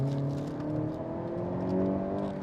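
A car accelerates out of a corner on a winding road, its engine giving a steady, close droning hum with a slight rise in pitch, heard alone without talk.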